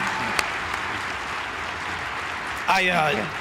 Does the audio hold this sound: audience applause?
yes